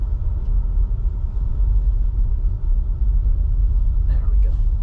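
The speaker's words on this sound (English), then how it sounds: "Okay, we're spinning wheels." Tesla Model 3 wheels spinning on snow during a snowstorm, a steady low rumble of tyres and drivetrain running throughout, with a faint squeal near the end.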